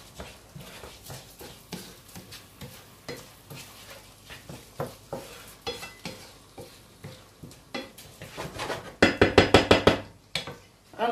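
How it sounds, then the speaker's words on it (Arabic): Rice fries with onion in oil and butter for a creamy shrimp risotto, with steady rhythmic stirring strokes scraping the pan. The stirring is close and grows louder and busier toward the end. "وغنخلي كذلك هذا الروز ديالي يتشحر مع هذه البصيله وفي هذه الزويته وهذه الزبده هذه"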